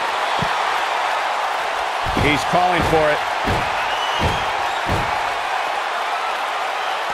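Wrestling arena crowd at a Raw match between Randy Orton and AJ Styles keeps up a steady roar of cheering throughout, with thumps from the ring and a commentator talking over it.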